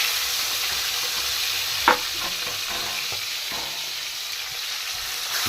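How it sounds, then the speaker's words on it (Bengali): Parshe fish fry in hot oil in a kadai, giving a loud, even, close sizzle that runs throughout, with one sharp clink and a few light stirring taps. "এই মাছগুলো লালচে লালচে করে ভেজে নিতে হবে"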